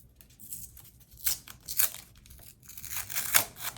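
Close, crisp tearing of a paper surprise packet being opened, several short ripping and crinkling bursts separated by brief quiet pauses.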